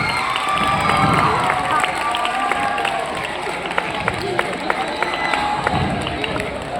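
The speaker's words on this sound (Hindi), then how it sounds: "जोरदार तालियों से इनका स्वागत कीजिए।" Outdoor crowd greeting an arriving politician in a comedy sketch, with clapping and cheering mixed with shouting and chatter, sharp claps popping out of the steady crowd noise.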